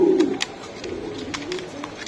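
Pigeons in a pigeon seller's coop coo softly, a low rolling coo up front followed by quieter murmuring and small rustles, close by.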